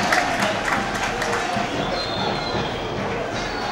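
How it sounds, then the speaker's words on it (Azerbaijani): Stadium crowd at a football match between Xəzər Lənkəran and Bakı applauding a Sierra Leonean footballer, a steady broad wash of clapping and cheering noise that holds throughout at moderate loudness. "Alqışlar Sierra Leone'lı futbolçuya"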